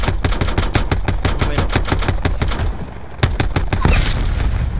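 Rapid gunfire bursts from Call of Duty: Black Ops 4 Blackout, loud and close, a dense run of shots that pauses briefly near the end and resumes, with faint voices underneath.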